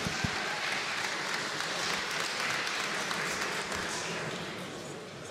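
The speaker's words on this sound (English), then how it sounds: "a big applause for these two fighters, Tomasz and Tayron" A crowd at a kickboxing event in a ring applauds two fighters after three five-minute rounds, a sustained wash of clapping from a distance that holds steady for several seconds before easing slightly.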